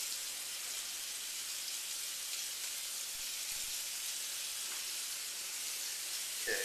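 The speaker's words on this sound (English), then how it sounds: "I'm going to fry the rest of my onions in the bacon fat. I got a nice hot cast iron pan." Onions fry in bacon fat in a hot cast iron pan, giving a constant bright, crackling sizzle close up with no talking.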